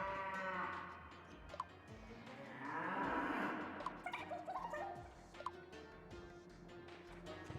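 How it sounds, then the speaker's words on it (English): Cow lowing inside a cave in a video game, with a drawn-out moo that swells in the middle and echoes faintly, over quiet game ambience and scattered clicks. "That just sounds like a cow."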